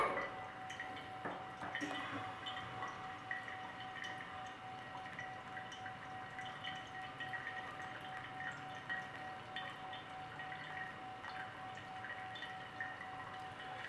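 A Modbar pour-over tap dispenses water in a steady, faint trickle and patter, with a constant tone from the machine running underneath throughout.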